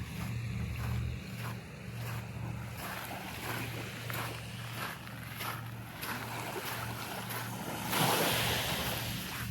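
Ocean surf washes onto the coastline at Torrent Bay in Abel Tasman, a steady rushing wash of waves with a slightly stronger surge near the end, close by and without speech.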